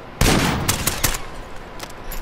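Automatic gunfire in Call of Duty: Modern Warfare during a search-and-destroy match, a loud close burst followed by a few more sharp shots in quick succession.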